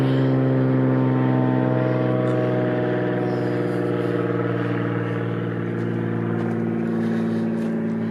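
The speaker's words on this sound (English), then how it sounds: "There's constantly airplanes because the airport's right over there." A loud, droning airplane engine flying overhead near an airport, with steady tonal hum throughout, sounding fairly close and constant, with no talking.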